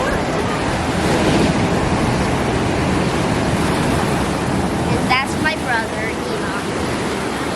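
Ocean surf rolls steadily onto a beach on a windy hurricane day, a loud continuous wash of breaking waves with wind buffeting the microphone, and a brief burst of voices near the end.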